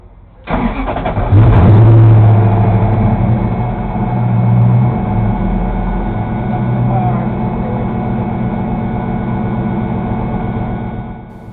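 A race car built for a 24 Hours of Lemons endurance race at NOLA Motorsports Park cranks over and fires up, then settles into a loud, steady engine roar close by with some revving, while faint voices come through underneath.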